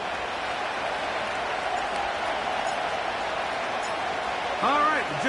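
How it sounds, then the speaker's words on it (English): Stadium crowd at Ford Field in Detroit, home of the Lions, in the Madden 25 football video game: a steady, dense roar of cheering fans fills the whole stretch, with a commentator's voice entering near the end. "The crowd is definitely ready."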